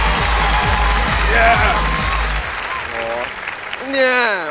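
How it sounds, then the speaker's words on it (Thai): A crowd at an awards show applauds and whoops loudly over a thumping music beat. The music cuts off midway and the clapping thins, then an excited host's voice breaks in over the remaining cheers. "ขอเสียงปรบมือด้วยครับ"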